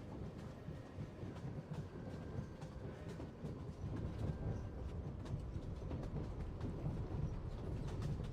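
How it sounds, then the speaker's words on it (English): A slow train in the video game Genshin Impact rolls steadily along its rails, with a continuous low rumble and scattered clickety-clack knocks that swell slightly in the second half. No one speaks. "Bro, this train is slow as heck."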